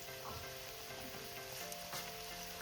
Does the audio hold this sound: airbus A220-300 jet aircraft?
no